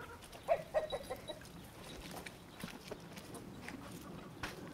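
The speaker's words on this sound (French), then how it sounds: "On va voir si les poules ont faim." Farmyard hens clucking in short bursts early on, a few quick soft calls near the start, then a faint busy farm background with scattered light knocks.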